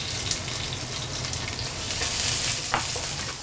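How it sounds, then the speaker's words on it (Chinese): Onions stir-fry in hot oil in a wok over medium-high heat, giving a steady, close, crackling sizzle with faint scraping and no talking. "油热了以后我们把洋葱放进去炒出香味来"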